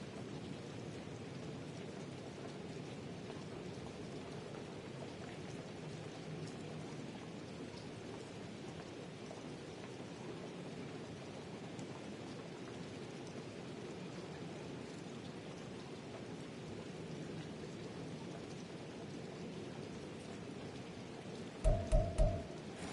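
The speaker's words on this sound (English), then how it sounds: "The rain set to continue as we are underway in the second half." Rain falls steadily during a Madden football video game, a constant wash with low rolling thunder beneath. A few louder rumbling bursts come near the end.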